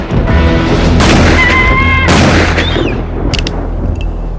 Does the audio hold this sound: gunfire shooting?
yes